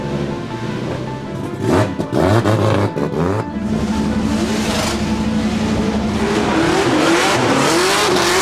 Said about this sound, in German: Gleich geht's los, Freunde, Reifen aufwärmen.